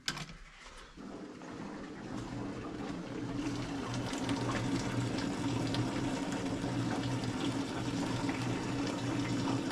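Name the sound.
fuel pouring out of 1955 Ford F100 fuel tank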